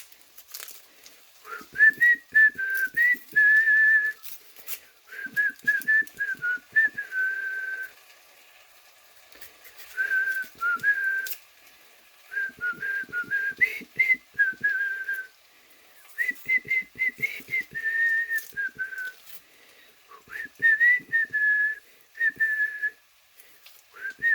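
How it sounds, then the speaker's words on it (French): A person whistles a melodic tune in repeated phrases while cutting onions in a home kitchen for a Spanish tortilla, faint knife taps underneath, no talk. "mon astuce pour pas pleurer quand je fais des oignons, je siffle"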